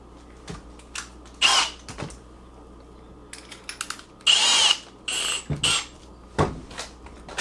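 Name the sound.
drilling with power drill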